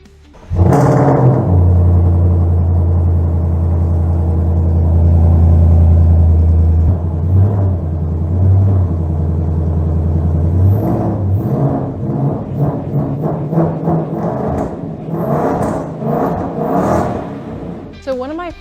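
A Ford Mustang engine fitted with a Steeda cold air intake, a deep steady idle rumble that later rises into a few revs, loud and close, with some talk over the later part.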